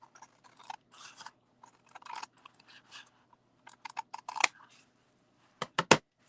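Scissors snipping through scored paper for a photo box, a series of close, crisp cuts in uneven bursts separated by short pauses.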